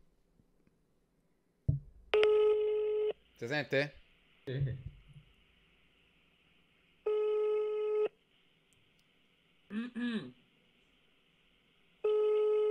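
Several phone tones sound in separate bursts, interrupted by short spoken exchanges, with a quiet pause between the later tones.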